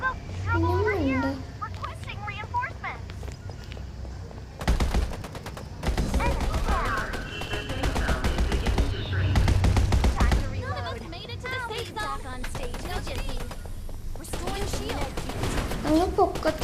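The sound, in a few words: gunfire in the video game Farlight 84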